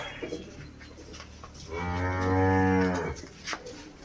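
A single long, loud cow moo at a cattle farm, rising and holding for over a second before falling away, with quieter farmyard noise around it.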